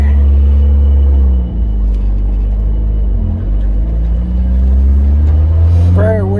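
A 1986 Pontiac Fiero with the Iron Duke four-cylinder engine drives along the road, giving a loud, steady, low engine rumble throughout. A voice-like sound rises briefly near the end.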